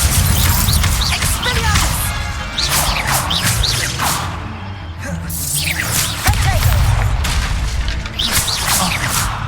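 Confringo and Incendio spell blasts in Hogwarts Legacy: a dense, continuous run of booming bursts and fiery whooshes, one after another, with a voice calling out over them.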